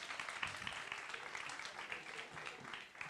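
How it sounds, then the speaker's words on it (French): An audience applauds a contestant at a cultural quiz held by an association, a soft, steady patter of many hands clapping at a distance, fading slightly toward the end. "On peut l'applaudir bien fort, s'il vous plaît."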